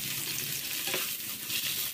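Sliced ivy gourd, half a kilo, being stirred into hot oil for curry, a bright continuous sizzle with faint scraping stirs and no voices.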